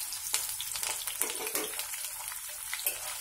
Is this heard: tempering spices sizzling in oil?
yes